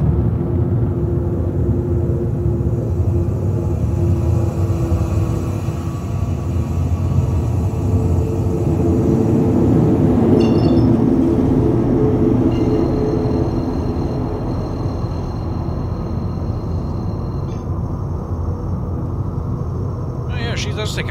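In the Star Citizen video game, a ship's quantum drive spools up as a steady low rumble with faint tonal hums layered over it, sustained and fairly even throughout.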